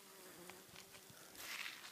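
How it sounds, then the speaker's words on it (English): Faint, steady buzzing of flying insects, like bees or flies, drifting around people outdoors, with wingbeat drones rising and falling close by over quiet background air and no talking. "The insects are very attracted to the Kundalini people."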